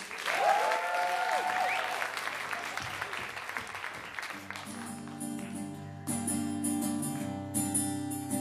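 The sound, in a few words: audience applause for a singer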